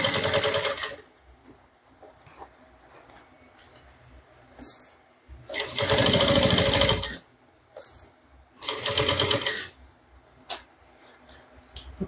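A sewing machine stitches the curved edge of a fabric handbag in several loud, steady bursts, stopping and starting between short quiet pauses with faint handling noises.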